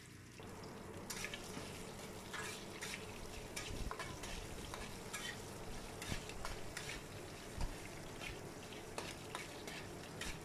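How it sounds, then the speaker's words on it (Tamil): Green chillies frying in a pan for rava upma, a steady soft sizzle with repeated scraping clicks of a spoon stirring, close and fairly quiet, no talking. "நம்ம ஒரு 5 மினிட்ஸ் வந்து இது நல்லா ஃப்ரை பண்ணிக்கலாம்"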